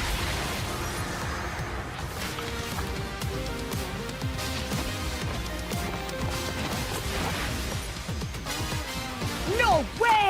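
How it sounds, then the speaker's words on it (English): Street Fighter VI game music plays throughout at a steady moderate level, a busy layered track with percussive hits and rising tonal sweeps near the end, with no talking over it. "Does Street Fighter music actually sound like this?"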